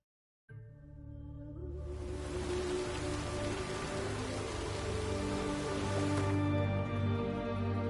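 Steady rain conjured by witches in The Witcher 3 comes in after a brief quiet start, swelling into a dense, continuous hiss of drops on surfaces under a low ambient drone, holding loud and even to the end.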